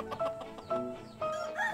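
Korean native chickens clucking on a farm that raises restored heritage breeds, a few soft, short clucks and calls at moderate distance over low background noise.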